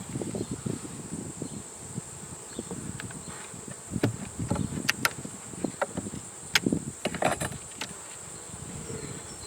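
Honey bees buzz on a nectar-filled frame pulled from a queenless hive, a close, continuous drone with individual bees flaring louder as they pass near.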